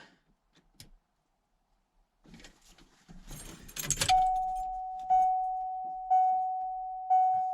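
A Ford F250's warning chime dings repeatedly at a steady, slow rhythm, clear and fairly loud, following a jangle of keys and rustling.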